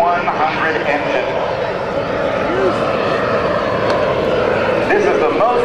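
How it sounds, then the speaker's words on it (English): A PBS TJ100 jet engine powers a sailplane in flight at a naval air station airshow, producing a continuous roaring aircraft drone that rises and falls, with loud talk over it throughout. "That is the PBS TJ100 engine."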